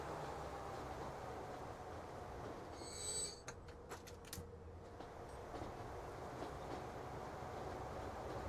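A train in the game Transport Fever 2 rolls onto a bridge, a steady rumbling hiss with a brief squeal and a few rhythmic clacks from the wheels, moderately loud and continuous.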